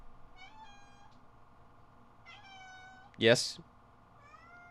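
A house cat gives a single short, loud meow close by, following soft background tones, with a person talking briefly around it.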